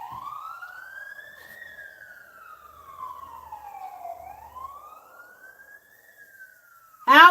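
A wailing fire truck siren sweeps slowly up and down in pitch, moderately distant, with a sudden loud burst of noise at the very end.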